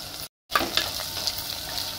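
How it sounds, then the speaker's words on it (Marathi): Chopped tomato drops into browned onions frying in a pan with green chillies, for a vegetable pulao. After a brief silent gap, a steady loud sizzle and crackle fills the rest of the clip, with no voices. "आता कांदा लालसर झालाय, आता त्यामध्ये आपण टोमॅटो चिरलेला टाकूया।"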